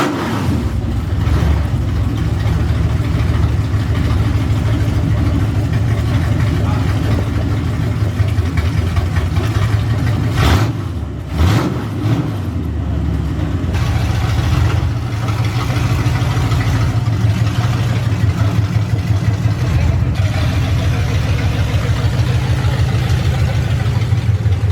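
A 1969 Camaro engine runs steadily at idle throughout, loud and close, with a brief dip and surge partway through, no voices.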